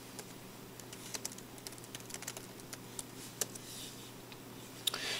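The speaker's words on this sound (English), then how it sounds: "And I can type back." Faint, quick taps on a computer keyboard form an irregular patter of soft clicks, with a few louder keystrokes standing out against a quiet room hum.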